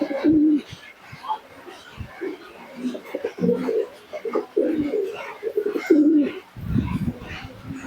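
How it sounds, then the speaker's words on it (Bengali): Teddy pigeons coo close by, with repeated low throaty coos in uneven bursts and some soft chirps mixed in, and a person talks over and between them. "দেখুন, বাচ্চা দেখলে বুঝতে পারবেন কত সুন্দর কোয়ালিটির কবুতর রয়েছে।"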